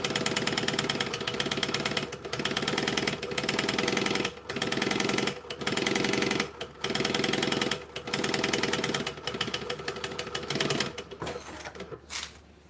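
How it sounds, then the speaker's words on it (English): A sewing machine runs in a close, steady whirring chatter as it stitches a line, stopping and starting in several bursts with brief pauses between runs. "I just sewed this line and it didn't do anything. So now we're doing it all again."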